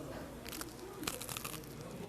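Crisp crunching bites into a crusty texture, a few quick crackling bursts heard up close without speech.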